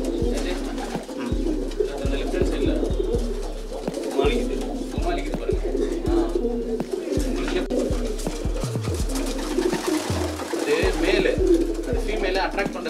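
Racing homing pigeons coo in a loft, a dense run of repeated low, throbbing coos with bird chatter around them and faint voices in the background.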